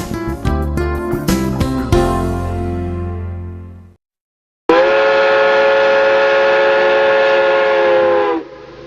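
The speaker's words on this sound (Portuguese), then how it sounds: "Lá vai o trem, furando montanhas, seguindo um caminho de sonho e coragem." A steam train whistle blows loud and close in two long blasts separated by a brief silence, the first tapering off and the second holding steady with bright harmonic tones.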